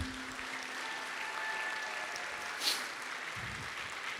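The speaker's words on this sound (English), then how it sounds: "let's give a big round of applause for my actors, please." Sustained audience applause for the actors at a San Francisco movie screening, a dense wash of many hands clapping steadily at a moderate level throughout, with no talking heard.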